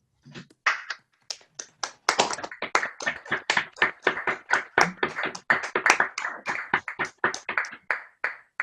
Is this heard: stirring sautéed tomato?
no